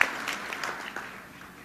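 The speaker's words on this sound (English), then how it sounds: "Certainly deserving of your applause." Applause from a comedy show audience, a soft spread of clapping that holds for a moment and then thins and fades toward the end, heard alone without speech.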